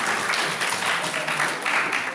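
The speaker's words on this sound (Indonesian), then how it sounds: "Tepuk tangan, tepuk tangan." Audience applause during a Buddhist Dhamma talk, a short spell of dense clapping from a gathered crowd, fairly steady and moderately loud throughout.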